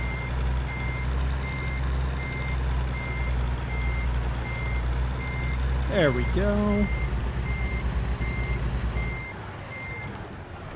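Heavy truck reversing while parking in American Truck Simulator, with steady reversing beeps over a low engine rumble and a short hiss partway through. Someone speaks briefly over it.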